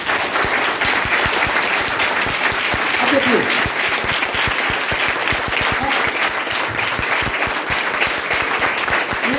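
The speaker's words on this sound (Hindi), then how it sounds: "चेयरमैन वाली ताली बजाइए, चेयरमैन वाली" Dense, continuous clapping from an audience, many hands striking in a loud steady rhythm throughout, with a voice speaking briefly over it.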